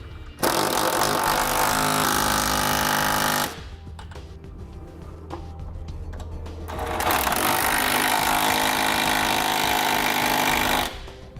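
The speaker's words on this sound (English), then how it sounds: "Now using an 11/16 socket, I'm going to tighten up my 7/16 bolts." A power tool with an 11/16 socket tightens 7/16 bolts on a Curt trailer hitch receiver fitted to a 2017 Kia Sorento. Two loud, sustained mechanical bursts are split by a quieter pause of clanks and background noise.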